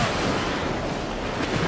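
Stormy wind and crashing waves at sea make a steady, dense roar, loud and unbroken, with no voices over it.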